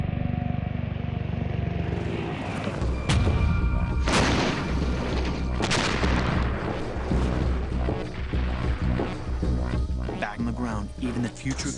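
Future combat artillery pieces fire heavy booms that stand out over a dense rumbling background, with several sharp blasts in the first half, while a narrator talks over the whole stretch.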